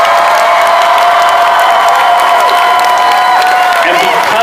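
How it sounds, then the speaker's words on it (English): Large festival audience giving sustained, loud applause with cheers and whoops, a dense continuous roar of clapping throughout. "So with a thunderous round of applause, let's thank your chaperones, parents,"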